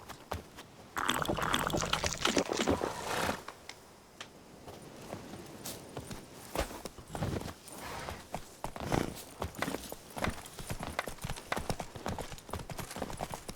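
Horse hooves clip-clopping in The Witcher 3, a steady rhythmic trot running under game music and ambience, fairly close and moderately loud throughout.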